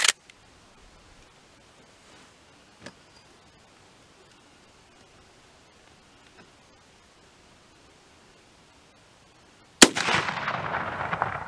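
Single sharp rifle gunshot from a full-length 26-inch barrel 30-30 or 30-40 Krag, a loud crack near the end after long quiet with faint ticks, followed by a hissing noisy tail.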